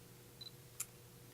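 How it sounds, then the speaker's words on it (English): A Fujifilm X20 compact camera in macro mode with face detection gives a single soft shutter click, partly an artificial shutter sound, close and faint in a quiet room with a brief faint beep just before. "the clicking sound, that's just, there is a shutter, but there's also an artificial shutter sound"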